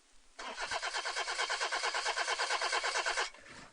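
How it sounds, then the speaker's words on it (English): A car engine cranks but fails to start, its starter churning in a fast, even, rhythmic whir for about three seconds before cutting off, close and clear with no talk. "Car won't start?"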